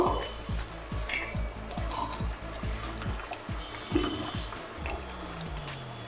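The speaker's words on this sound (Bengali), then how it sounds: "এখন এ পর্যায়ে ঝোলের পানি দিয়ে দিব।" Water is poured into a pot of chicken curry cooked with elephant foot yam to make the gravy, giving a soft, steady liquid splash with rhythmic low thuds, while a person talks over it.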